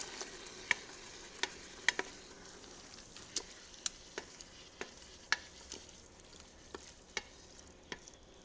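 Tomatoes simmer and sizzle softly in a pot while a utensil stirs them, giving regular, sharp scrapes and taps against the pot roughly every half second over a quiet cooking hiss.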